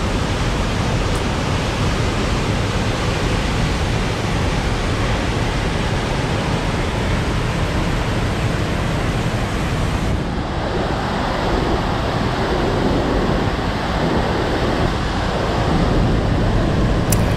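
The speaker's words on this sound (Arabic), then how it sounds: "وهذه هي البلاصه اللي وصلنا لها كتسمى ويلسون كريك فولز بي سي. كما كتشوفوا شلالات روعه" Wilson Creek Falls in British Columbia roars in a loud, unbroken wash of falling water that fills the whole scene, steady from start to finish with no voices.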